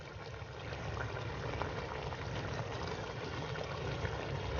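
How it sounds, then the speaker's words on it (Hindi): Carrots tipped into a cooking pot of chappan kaddu (apple gourd) and chicken, giving a steady, close bubbling sizzle of simmering liquid that carries on evenly throughout. "अब इसमें ये गाजरें डाल दीजिए"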